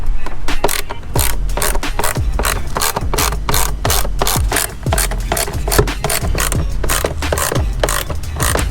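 Ratchet wrench turning 8mm bolts on a Jeep Patriot/Compass during a cabin and air filter install, a loud, rapid run of sharp clicks that repeats steadily close by, with a few brief pauses and no talking.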